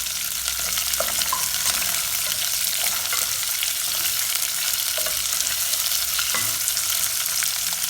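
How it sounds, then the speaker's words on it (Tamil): Onions sauté in hot oil with green chilies and curry leaves, giving a steady, close sizzle that runs without a break and sits alone with no voices over it. "வெங்காயம் வதங்கட்டும் பார்ப்போம். வெங்காயம் வதங்கிக்குது."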